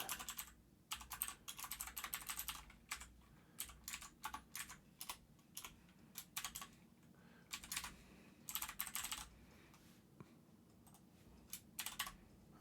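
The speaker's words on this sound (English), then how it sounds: "Tough time typing today." Fingers type steadily on a computer keyboard, loud close bursts of rapid key clicks broken by brief pauses, with no talking.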